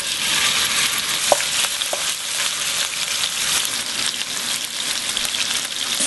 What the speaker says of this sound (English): Stir fry over high heat.